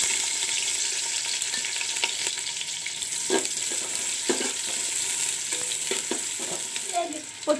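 Sliced onions fry in refined oil for fried rice, a constant sizzle broken by repeated scraping and clattering strokes of a spoon against the pan, close and fairly loud.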